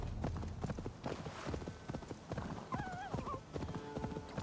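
A horse's hooves clip-clop at a steady trot in Assassin's Creed Valhalla on Xbox Series X, with a brief whinny partway through over a dense game soundscape.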